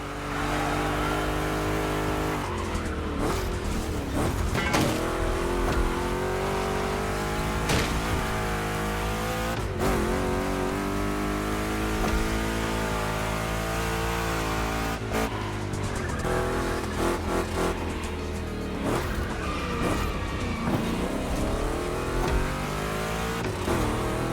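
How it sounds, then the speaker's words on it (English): Chevrolet big-block race cars in The Crew Motorfest roar and rev through a gymkhana course, engine notes climbing and dropping with gear shifts, punctuated by tyre squeals and skids, loud and close without talk. "Two Chevys, two big blocks, but only one winner."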